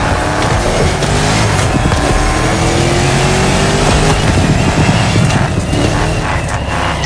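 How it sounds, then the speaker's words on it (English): A 1969 Mustang Boss 429 roaring in The Crew Motorfest racing game, its engine loud and continuous with shifting revs and a hint of tire noise throughout, no voices. "You're driving my #1 car, the star of my collection, the 1969 Mustang Boss 429."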